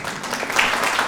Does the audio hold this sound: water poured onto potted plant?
no